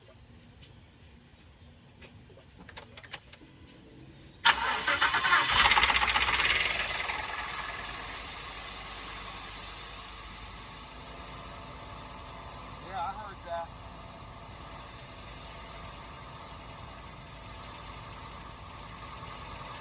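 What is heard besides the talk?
5.0 car engine idling with misfire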